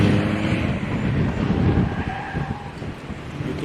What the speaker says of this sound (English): You can hear the tires squealing on that Tez, so he's not showing it any mercy.